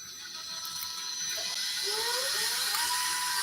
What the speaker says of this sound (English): Drill our pilot hole,